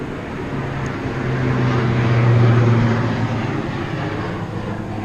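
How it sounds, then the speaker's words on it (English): A crop-dusting airplane passes overhead outdoors, a steady low engine drone that swells to a peak midway and then fades as it moves away, with broadband wind-like rumble throughout and no talk. "crop dusting plane went by"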